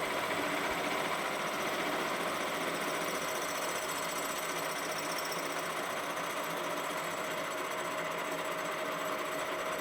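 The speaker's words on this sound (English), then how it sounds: "All the machinery the guys at Soyuz are using is all ex-military production spec" Ex-military production machinery runs inside the Soyuz microphone factory, a continuous dense mechanical whir and buzz with a fast, even rattle, steady and fairly loud throughout, with no talk.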